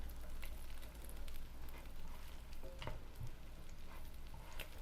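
Salmon patties fry in a pan with a steady, soft sizzle and a few faint clinks and scrapes, all quiet and close.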